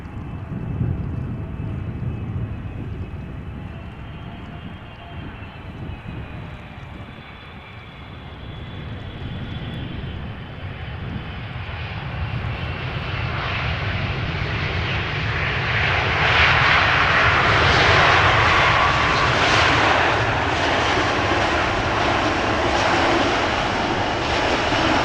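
An airliner lands at Amsterdam Schiphol with idle reverse thrust, a broad steady jet roar at a distance that swells louder in the second half and holds for over twenty seconds.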